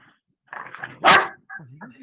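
A Rottweiler, Pit Bull and Australian Shepherd mix gives one loud, close bark amid short yips and whines, with a person talking briefly around it.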